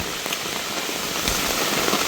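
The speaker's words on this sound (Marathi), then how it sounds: "लय पाऊस आलाय बेकार." Heavy rain pours steadily on a field near a forest, a dense and loud hiss of drops hitting surfaces that holds level throughout with no talk.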